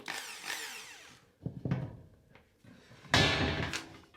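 A power drill whines in short bursts boring a hole through a cracked cymbal, with a ringing metallic shimmer and clattering thumps between runs.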